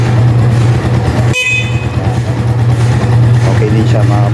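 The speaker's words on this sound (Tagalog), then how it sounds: "Tapos busina, try din natin mga kapatid." A Microbike EXT 150 motorcycle's horn beeps once, a short bright toot over a steady engine idle hum, with people talking nearby afterward.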